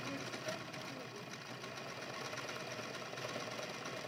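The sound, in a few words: sewing machine stitching fabric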